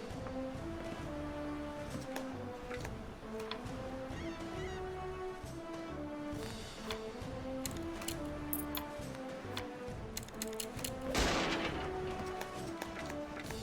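Ship cannons firing during a pirate naval battle in the game Red Rogue Sea, heard as soft scattered booms under a constant ticking, rhythmic game soundtrack, with one louder burst near the end.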